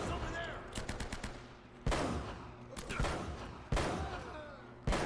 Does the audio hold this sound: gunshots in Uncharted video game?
yes